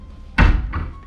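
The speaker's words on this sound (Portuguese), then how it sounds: "Fechar a porta." A door inside a house is pushed shut with a single solid thunk, close and fairly loud, followed by a softer rattle as it settles into the frame.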